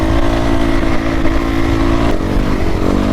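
A dirt bike engine held at high throttle on sandy ground, a loud, close, continuous buzzing drone with a steady pitch throughout and no voices.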